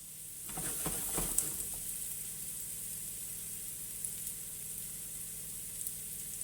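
Beef sizzles quietly in a hot pan with a steady, even hiss, with a few soft stirring knocks near the start and no voices.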